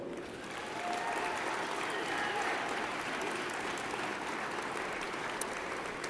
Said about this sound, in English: reciprocate by applauding your friends and family, faculty and staff